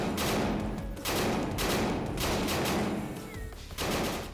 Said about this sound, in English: Gunfire in this game sounds pretty lively.